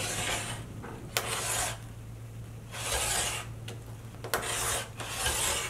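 Fabric strips for a cheater quilt being cut, heard as several separate rasping strokes of even length with short pauses between, close and fairly quiet, with no talking.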